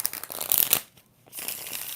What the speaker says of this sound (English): I just love the way that deck shuffles